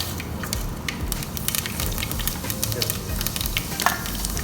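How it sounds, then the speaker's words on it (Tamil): Mustard and fenugreek seeds fry in hot oil with a steady sizzle and rapid, popping crackles, close and loud, while a spoon stirs the pan. "இப்போ எண்ணெய் சூடாயிடுச்சு, கடுகு போட்டுக்கலாம்."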